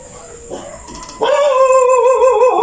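Dogs let out a sudden howling, whining cry that rises loudly and holds, following quieter yips, with more than one voice overlapping.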